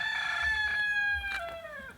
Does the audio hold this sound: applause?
no